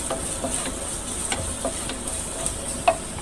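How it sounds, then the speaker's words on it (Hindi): Garlic sautés in hot oil over a high flame, a steady bright sizzle with faint crackles and a small pop near the end, no voices. "तेज आंच पे ही हम सौते करेंगे"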